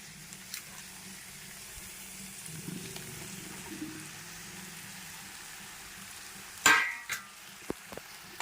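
Fried okra stirred into a spicy tomato curry, with a soft, low simmer and sizzle, a few faint stirring scrapes and sharper utensil clicks near the end, with no talking.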